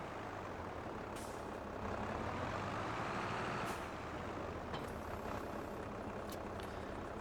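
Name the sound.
Fendt tractor driving in a farming video game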